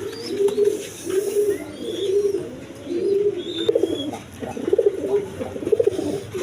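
Several large pigeons kept for sale coo nearby in repeated rhythmic throaty phrases, with faint chirps and background noise between the calls.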